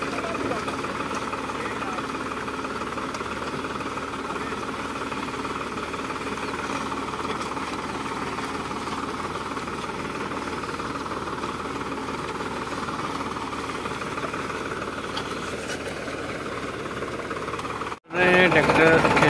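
A homemade jugaad tractor engine runs steadily at a farm, a loud continuous knocking chug that holds for about eighteen seconds before a brief cutout and louder resumption.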